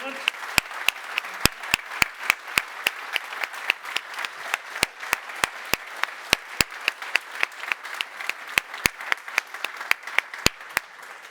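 Audience applause at the Neos Con 2024 award ceremony: steady, moderately loud clapping from a crowd with sharp individual claps throughout, while voices talk underneath.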